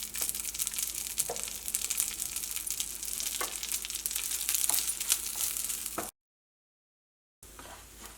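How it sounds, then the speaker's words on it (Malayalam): Grated coconut fries in coconut oil with a steady, close sizzle and occasional soft stirring scrapes, continuous until a brief silent gap, then resuming faintly. "അപ്പോൾ നമ്മുടെ തേങ്ങ നന്നായിട്ടൊന്ന് മൊരിഞ്ഞ് വരട്ടെ"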